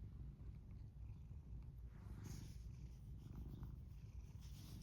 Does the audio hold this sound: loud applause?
no